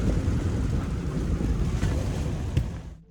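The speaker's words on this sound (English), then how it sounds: "Wow, that's a lot of wind." Strong, gusty wind roars over an old Hallberg Rassy 352 sailboat lying at anchor, a loud continuous rush with buffeting microphone noise and a sharp knock near the end.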